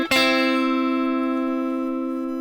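A single plucked guitar double stop, two notes struck together in a minor pentatonic lead lick, ringing out clearly and sustaining as it slowly decays, alone with no talk.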